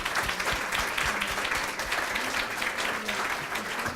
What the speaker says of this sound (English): if we can give them a giant round of applause